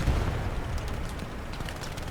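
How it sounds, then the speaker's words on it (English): Explosions and artillery fire in the World War II shooter Hell Let Loose rumble steadily and loudly through a competitive match, a dense low boom with no clear gaps. "explosions happening here."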